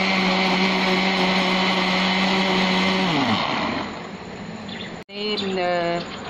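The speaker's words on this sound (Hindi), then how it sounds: "अब मैं इनको ग्राइंड करूँगी।" An electric kitchen grinder whirs loudly while grinding sugar, a steady high motor whine that drops in pitch as it slows and stops, then briefly spins up again with rising tones.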